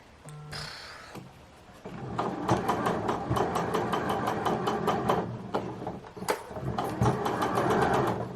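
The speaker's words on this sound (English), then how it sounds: "Right, we are ready to stitch." A sewing machine stitches a dress in a fast, steady run of needle strikes, close and loud, after a few seconds of quiet handling at the start.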